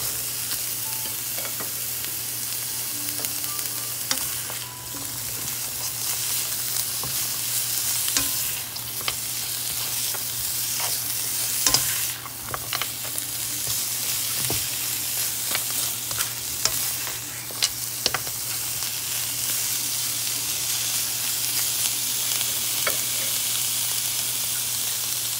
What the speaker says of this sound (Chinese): 蒜頭咧爆一爆啲羊肉先